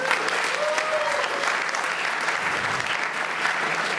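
Steady, sustained applause from the audience at a college elevator pitch competition, a continuous even roar of many hands at moderate loudness with no break.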